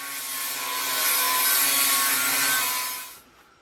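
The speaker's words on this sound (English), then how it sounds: "I have a flat wheel sanding disc that I'm using to take off any of the protective coating" A flat wheel sanding disc grinds the protective coating off metal, a loud, close, continuous abrasive hiss that swells and then stops abruptly near the end.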